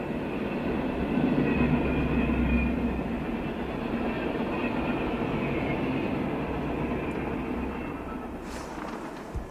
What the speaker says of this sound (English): Symbol on that train is CSX Q367.